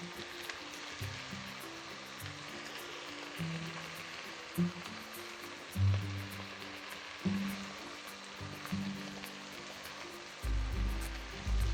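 Ginger and cumin frying in hot oil for a vegetarian paneer polao, a steady soft sizzle running throughout with occasional louder scrapes and knocks as the spices are stirred in the pan.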